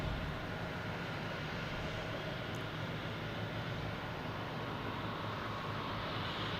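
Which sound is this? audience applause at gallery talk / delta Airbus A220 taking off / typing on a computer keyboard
delta Airbus A220 taking off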